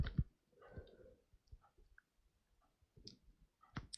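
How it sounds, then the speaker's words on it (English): Several sharp, light computer mouse clicks scattered over a few seconds, close and isolated, with faint ticking and quiet desk noises between them. "You just click on it once."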